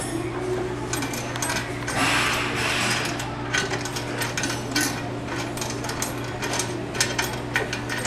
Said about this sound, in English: You turn the key about 7 revolutions counterclockwise.